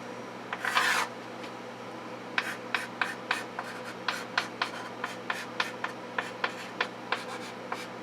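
Pen or pencil writing out matrix math by hand, a brief scratchy scribble followed by a steady series of short, evenly spaced strokes and taps on paper, close and quiet over a faint hum, no speech.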